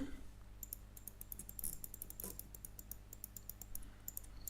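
Rapid keyboard typing and mouse clicks while working in AutoCAD, a steady run of close, crisp keystrokes over a low background hum.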